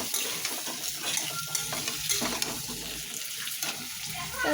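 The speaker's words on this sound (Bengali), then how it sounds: "আর দেখুন, আলুটা ভেজে নেবে এখন" Potatoes frying in a pan with steady crackling sizzle and stirring clatter up close, with a watery, running-tap quality mixed in.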